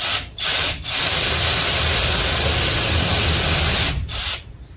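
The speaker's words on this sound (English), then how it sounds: "I'm gonna drill this one right here to get that into the wood" A power drill bores into wood in short bursts, a loud whirring grind that stops and starts a few times.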